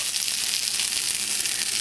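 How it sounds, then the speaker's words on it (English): Steady, bright sizzling of a scrapple slice frying in a pan, close and continuous, with no voices. "hear that sizzle,"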